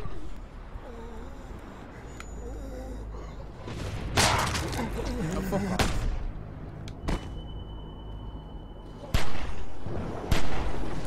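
Gunfire in The Walking Dead Season 2 game as walkers close in: several sharp, loud shots at irregular intervals over a busy background of tense game noise, with a breathy gasp in between.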